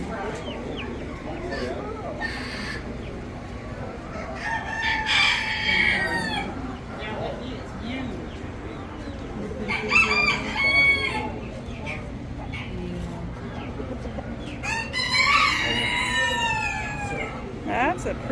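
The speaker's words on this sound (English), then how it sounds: "Oh, look at the rooster." A fancy rooster crows three times in a garden setting in East Idaho, the calls spread evenly across the clip over a steady background of outdoor noise, with a person talking nearby.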